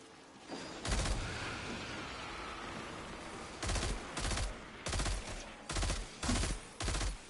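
Bursts of automatic gunfire from the video game Destiny 2: one long burst, then a run of about six short, loud, evenly spaced volleys over a constant background rumble.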